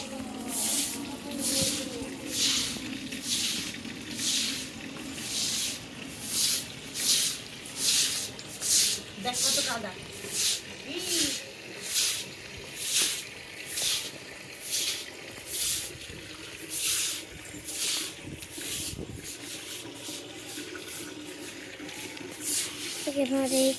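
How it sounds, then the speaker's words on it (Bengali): Water is sprayed and splashed across a rooftop to wash it, a rhythmic series of hissing, swishing surges repeating steadily, with a voice talking intermittently underneath. "তো যাক জল দিয়ে পুরো ছাদই ধুয়ে দিই"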